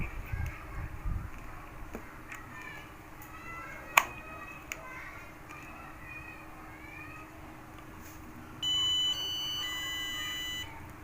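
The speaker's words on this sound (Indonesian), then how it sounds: "alarm tersebut menandakan bahwa alat ini sudah terkoneksi dengan jaringan internet" An IoT water meter powered through an adapter lets out an alarm to signal that it has connected to the internet, a short sharp beep and then a steady electronic tone for a couple of seconds, with faint room noise around it.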